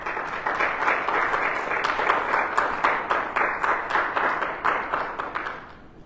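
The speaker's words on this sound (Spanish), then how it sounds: "¿Cuánto da un aplauso fuerte al Señor?" A church congregation gives loud applause during a Sunday service, with many hands clapping in a quick, fairly rhythmic pattern that holds steady before tapering off at the end.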